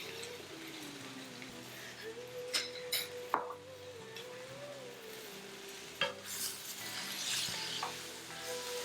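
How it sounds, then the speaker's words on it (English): Soybean paste stirred into softened onions sizzling in a pan while making Taiwanese beef noodle soup, with steady close frying hiss and a few utensil scrapes and clinks against the pan. "now we're gonna add in the soybean paste"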